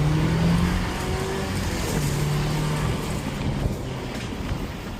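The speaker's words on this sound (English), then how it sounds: "So I'm going to build a little boost. The turbo's going to kick in right there." Turbocharged engine of a 2026 Chevrolet Colorado Trail Boss building boost while off-roading, a steady loud cabin drone with rising engine tones under wind and road rumble.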